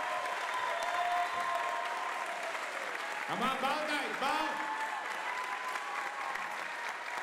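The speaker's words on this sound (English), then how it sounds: "Stand up for a big round of applause." A crowd applauds continuously and loudly at a music academy event while someone speaks over the clapping and whistles.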